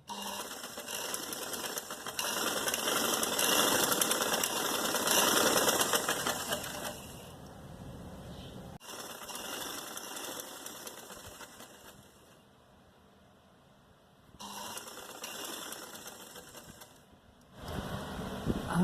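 A sewing machine runs a straight line of stitching along the centre of a sleeve, whirring steadily in long bursts with pauses between, fairly close and without talk.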